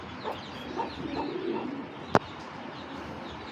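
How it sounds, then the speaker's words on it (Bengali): Giribaz pigeons, including a red-marked pair, give soft, low cooing calls close by, faint and intermittent, with a single sharp click partway through. "পাল্লা করার জন্য যারা কবুতর খুঁজেন একশো পার্সেন্ট পাল্লার কবুতর এগুলা"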